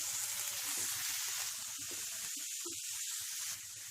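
A large, finely chopped onion hits hot oil with cumin in a pan over high flame, giving a steady, close, hissing sizzle that fades slightly near the end.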